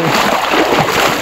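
Creek water splashing and sloshing close by, a continuous loud watery churn with no voices.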